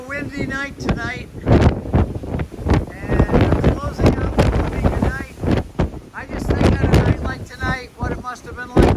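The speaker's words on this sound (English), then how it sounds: "It's a bit of a windy night tonight." Night wind blows across the deck of a cruise ship at sea, a rumbling, gusty buffeting on the microphone beneath a person talking throughout.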